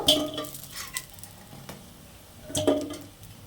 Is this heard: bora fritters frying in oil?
yes